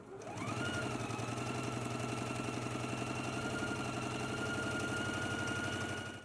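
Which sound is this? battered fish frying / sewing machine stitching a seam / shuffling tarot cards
sewing machine stitching a seam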